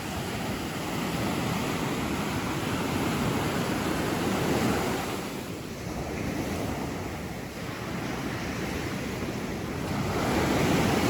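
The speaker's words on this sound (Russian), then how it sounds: "Этот шум прибоя, друзья" Steady roar of Black Sea surf at Novy Svet, Crimea, waves washing in with a broad rushing hiss that swells and eases, mixed with some wind buffeting the microphone.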